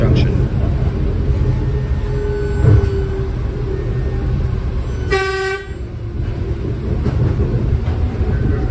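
A light rail train approaching South End Junction rumbles steadily, and a short horn toot sounds in the middle.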